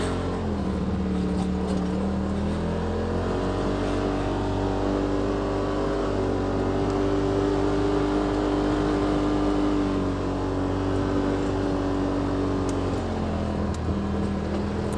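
A 2018 Polaris RZR XP Turbo drives in low gear on snow, its engine droning steadily and close throughout with a continuous hum that shifts pitch slightly as the revs rise and fall.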